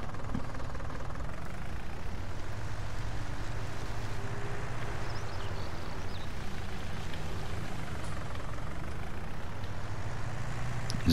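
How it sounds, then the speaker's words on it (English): A tractor engine in Farming Simulator 19 runs in a steady low, rumbling drone with a faint knocking texture, continuous and unchanging at moderate loudness throughout. "Starting the engine would help."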